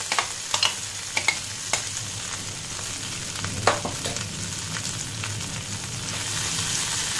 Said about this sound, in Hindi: आलू के स्टफिंग को हम 2 से 3 मिनट भून लेंगे